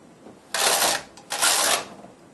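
Two broadband whooshing rattles from a knitting machine carriage sliding across the needle bed, each stroke about half a second long, close and fairly loud, separated by a short pause with no voices.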